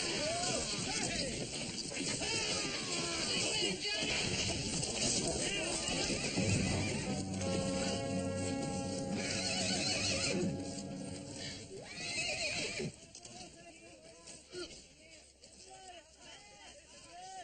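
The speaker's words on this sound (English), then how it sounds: "Big old scout horse." A big scout horse neighs loudly and repeatedly while hooves pound in a rapid gallop throughout, with voices and crowd-like noise mixed in beneath, the din easing near the end.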